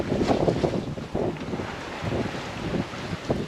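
Sailboat under sail at sea during a solo crossing from Sicily to Sardinia, a steady rush of wind buffeting the microphone over the wash of water along the hull, with no voices.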